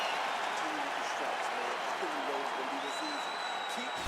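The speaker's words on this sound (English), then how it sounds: "So the crowd voicing its appreciation after that round." An arena crowd at a UFC fight applauding after a round, a steady wash of clapping and cheering under a commentator's talk.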